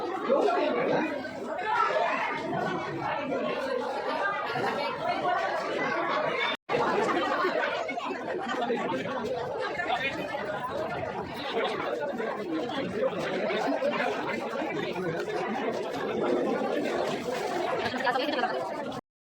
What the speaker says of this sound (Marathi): शनिवार असल्यामुळे आज गर्दी पण आहे आणि आता विकेंड चालू आहे त्याच्यामुळं जास्त गर्दी आहे